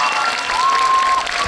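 Audience applause at a seven-year-old class's kindergarten recital, a short dense burst of clapping from a crowd, fairly loud and close, with voices mixed in.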